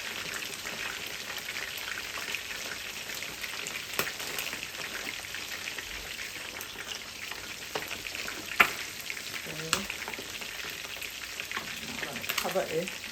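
Stock cubes and crayfish sizzle in a pot while cooking a spicy Liberian pumpkin stew, a steady close crackling fry with scattered pops and a few stirring clinks, no talking.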